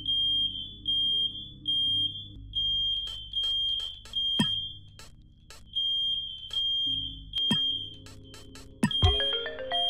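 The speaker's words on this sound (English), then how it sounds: "My fire alarm's on." Home smoke alarm going off indoors, a piercing high electronic tone sounding in regular repeating bursts, loud and close, with a few clicks and thumps in between.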